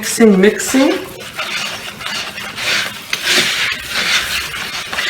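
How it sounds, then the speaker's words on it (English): Ingredients for homemade dog treats are stirred in a large bowl, with scraping and clinking of a utensil against the bowl continuing for several seconds, close and moderately loud. "start mixing everything together in a large bowl"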